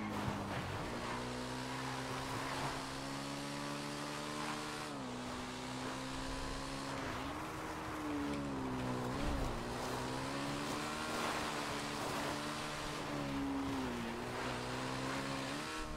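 Engines whine steadily with rising and falling pitch, like motorcycles racing in a video game, continuous and fairly quiet with no talk.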